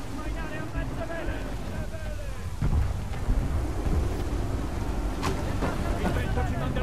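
Wind and crashing waves at sea aboard a sailing warship in Assassin's Creed III, with a constant rushing roar, heavier surges of water and a loud splash midway, under shouted voices.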